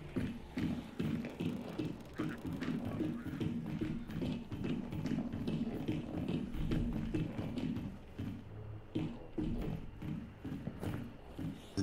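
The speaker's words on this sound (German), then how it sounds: "Die Schritte hier drinnen laut." Footsteps inside a building in the video game Hunt: Showdown: a continuous run of close, loud thudding and tapping steps lasting several seconds, with no voices.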